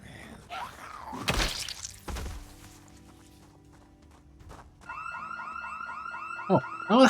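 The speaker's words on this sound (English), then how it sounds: "Oh, a house alarm." A house alarm in Project Zomboid Build 42 starts up after a few thumps and footsteps, a loud rapid warbling electronic wail that repeats steadily, while a voice speaks briefly near the end.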